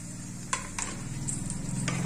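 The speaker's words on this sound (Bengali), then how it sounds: "আমি ওই যেটা শক্ত সেটা আগে দিয়েছি, ওই জন্য একই ঘিতে সবগুলোকে ভেজে নেব।" Pistachios and dry fruits frying in ghee with a steady sizzle, punctuated by a few sharp stirring scrapes and clinks of a utensil against the pan, close and moderately loud, no voices.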